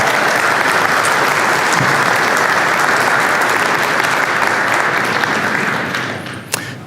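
Applause from a corporate retreat audience at a keynote, a dense steady wash of many hands clapping that holds loud and even before thinning and fading near the end.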